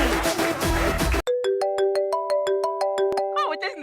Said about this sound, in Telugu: ఇప్పుడు చూడు ఫోన్ వస్తుంది.